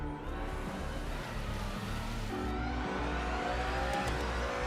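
Porsche race car engine in Project Motor Racing, a steady droning roar that holds and shifts pitch slightly, loud and continuous with no talking.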